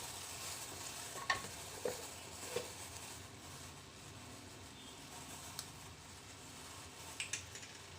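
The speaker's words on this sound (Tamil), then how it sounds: "ஸோ இது நல்லா கொதிக்கட்டும்." Jaggery tea simmers in a pan with a soft, continuous bubbling hiss, faint and close, broken by a few small clicks and pops, with no talking.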